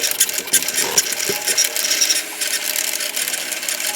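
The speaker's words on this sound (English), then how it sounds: "all we have to do is now hit this Cricut symbol and get this cut out." A Cricut machine cuts vinyl nearby, giving a steady, faint mechanical whirring and scraping with small clicks and no voices.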